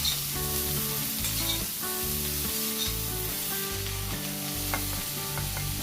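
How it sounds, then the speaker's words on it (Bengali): Cauliflower florets frying in a pan for a Bengali potato and pea curry, a steady close sizzle with repeated stirring scrapes and clinks throughout, no talk. "ফুলকপিগুলো ভাজা হয়ে গেল"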